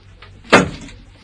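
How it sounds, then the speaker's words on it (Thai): A door is pushed shut in a Thai radio drama sound effect, one sharp, fairly loud thud with a short fading tail against near silence. "ป๊อปปิดประตูใส่ก้อยทำไมอะคะ"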